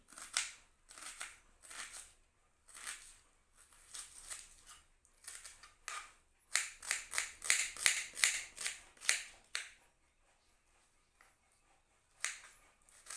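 A kitchen knife slices through an onion in crisp, rhythmic chopping strokes, close and fairly quiet, in clustered runs with short pauses between them and no talking.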